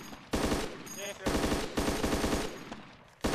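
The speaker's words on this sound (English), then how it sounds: "What are you shooting at?" Loud, close bursts of automatic gunfire from the video game Arma 2 DayZ Epoch, several rapid strings of shots separated by short gaps.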